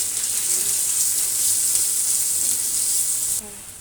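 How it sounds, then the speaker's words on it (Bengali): Onion, green chilli, garlic and carrot sizzle steadily in a hot pan, a dense continuous frying hiss that cuts off abruptly near the end. "এরপর পেঁয়াজ আর কাঁচামরিচ, কিছু রসুনের কোয়া দিয়ে হালকা ভেজে নিব।"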